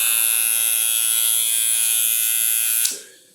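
Snap FX hair clipper running with a steady, high-pitched electric buzz held for about three seconds before switching off and fading, close and alone with no talking.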